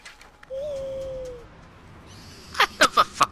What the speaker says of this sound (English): I have a fucking owl.